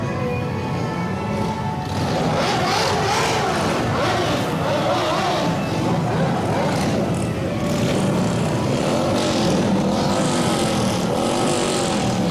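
Vehicles in a July 4th street parade rev their engines, a loud continuous rumble of several motors close by, with rising and falling revs and crowd noise mixed in.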